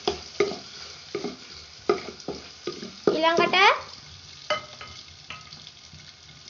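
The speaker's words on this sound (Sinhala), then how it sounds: "සුදු ලුණු ටිකක් රන් පහ වෙනතුරු බැදෙනකන් ටිකක් හැඳි ගන්න" Garlic fries in hot oil in a pan for an egg curry, sizzling under repeated scraping strokes of a spoon, with a brief spoken word partway through.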